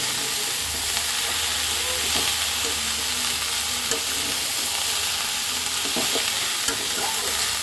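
Cabbage stirred into a pan where an aair fish head is frying, with a steady close sizzle throughout and scattered scraping knocks of the spoon against the pan, no voices.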